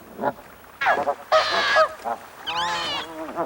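A gander honks in a threatening display to drive off a fox from its goslings in the Soviet Arctic; several loud, harsh honking bursts come close up, with short gaps between calls.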